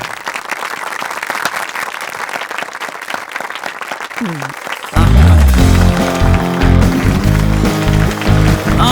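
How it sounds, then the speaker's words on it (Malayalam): An audience breaks into loud, sustained clapping and cheering midway, after a stretch of quieter rhythmic sounds with talking; the applause stays dense and close until the end. "എല്ലാവരും കൈയടിക്കേ"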